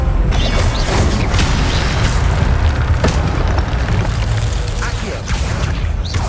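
Incendio fire spell in Hogwarts Legacy on PS5, a loud, dense roaring burst of flame with crackling mechanical clatter and booming hits throughout, and a voice in the mix.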